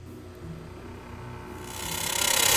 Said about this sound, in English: Can I be so bold as to inquire whether the microwave ovens should be making that noise?